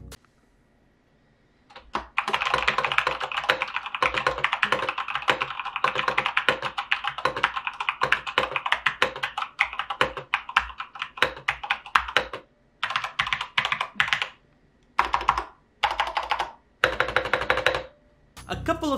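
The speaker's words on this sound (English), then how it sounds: "Let me show you guys a quick sound test so you can see it for yourself what these keys sound like." Rapid, crisp clicking of Corsair K70 MK2 RapidFire mechanical keyboard keys typed in bursts, loud and close, with a few short pauses near the end.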